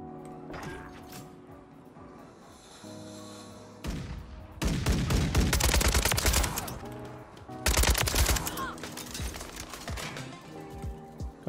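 Rapid automatic bursts from an AK-47 fitted with the JAK Requiem conversion kit in Call of Duty search-and-destroy on the Tokyo map, two long dense volleys with shorter scattered shots around them, close and loud.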